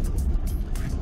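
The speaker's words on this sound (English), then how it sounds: "I love this whole 4x4 in the bush, bumpy road driving stuff" Continuous low rumble of a 4x4 vehicle driving a bumpy bush road on a Zambian farm clearing, with steady engine drone and intermittent jolts, close and moderately loud.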